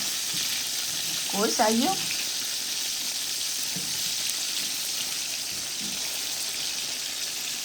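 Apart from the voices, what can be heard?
rohu fish frying in a pan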